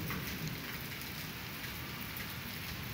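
Steady rain pours down outdoors during a welcome break in the heat, a dense, even hiss of drops hitting the ground and surfaces throughout, with no voices over it.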